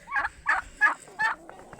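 Geese and ducks calling in snow: four loud, nasal honks at an even pace, followed by a few fainter calls, with no talking.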